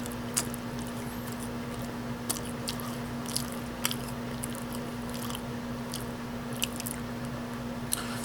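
Someone bites and chews a cheese-dust-coated mozzarella stick sprinkled with pepperoni. Close, crisp crunches come every second or two over a faint steady hum, with no talking.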